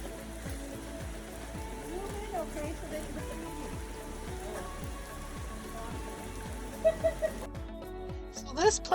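Steady rain falls on the beach at Blue Lagoon near Port Vila, Vanuatu, a dense, even patter of drops that continues throughout, with a few brief louder taps near the end.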